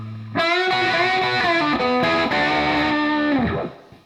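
Distorted electric guitar plays a fast lick ending a run, a loud sustained stream of quick notes with smeared overdrive that bends at the close and fades out, heard alone.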